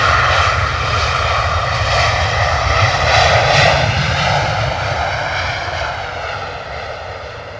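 At London Stansted Airport, an airplane's engines roar loudly and steadily nearby, a thick sustained drone that slowly fades toward the end, with no talking.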